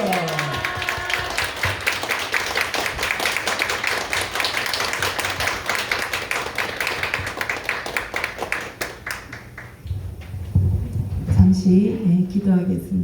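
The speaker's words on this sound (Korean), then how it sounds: "오늘 그래서 그 말씀을 증거해 주실 우리 이문희 목사님을 큰 박수로 할렐루야로 환영해 모시겠습니다." Big, dense round of congregation applause at a Friday night worship service welcoming the pastor to the pulpit, steady and loud for about ten seconds, then fading as music and a voice take over.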